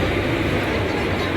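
The Tiruchendur–Chennai Egmore train pulls into a station with a loud, steady, broadband rumble and rolling noise that fills the short moment without a break.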